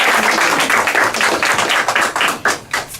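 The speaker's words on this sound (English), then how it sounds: "Can we give her a round of applause?" Applause for a school principal at a high school fire cadet program ceremony: many hands clapping loudly and steadily, a few sharper claps standing out near the end as the clapping thins slightly.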